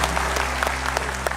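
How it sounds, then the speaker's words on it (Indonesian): Studio audience applause for Roy Kiyoshi on an Indonesian television show, a steady wash of clapping with a hum beneath it, brief and moderately loud, with no talk over it. "tepuk tangan buat Roy Kiyoshi"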